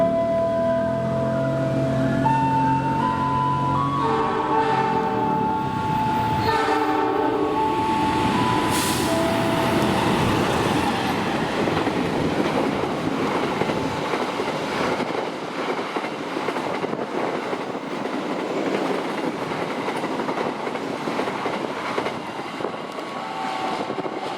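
The Kertajaya passenger train, running with 12 premium coaches, passes loudly with horn blasts at the start, then a sustained roar and rumble of coaches rolling by with rail clatter.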